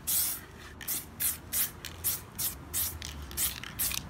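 Spray cans coating a tank, heard up close as a rapid series of short hissing bursts, about ten quick sprays in steady rhythm with brief gaps between them.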